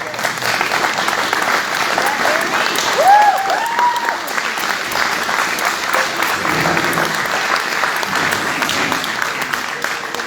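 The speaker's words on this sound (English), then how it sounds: "Let's give these guys a round of applause." An audience at a state representative candidate forum applauds steadily throughout, a dense patter of many hands clapping at close range, with a brief whoop or cheer rising above it.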